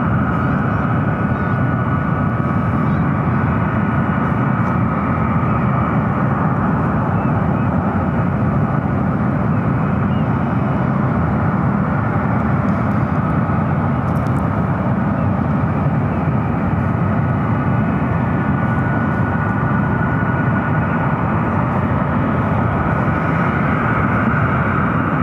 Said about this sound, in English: Arrival is the Pilatus PC-24, followed by a United